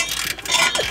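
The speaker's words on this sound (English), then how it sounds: "I gotta do the hard, daunting job of breaking my exhaust free." Ratchet clicking while loosening stuck bolts on a car's exhaust, a brief close run of sharp mechanical ratcheting with a short tonal squeak near the end.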